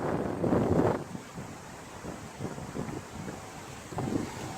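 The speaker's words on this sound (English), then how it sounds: "Pardon the wind." Wind buffets the microphone in low, uneven gusts, loudest at the start and again near the end, with no voices.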